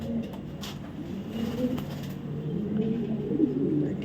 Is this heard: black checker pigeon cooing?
yes